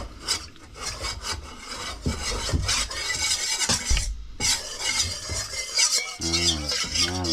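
Rough, rhythmic rasping as Tahitian chestnut is scraped during cooking, a close series of gritty strokes with short pauses between them.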